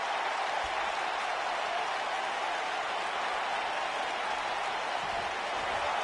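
An arena crowd in a wrestling video game cheers steadily, a dense hiss-like roar of applause and noise that holds at an even level throughout with no clear breaks and no voices standing out.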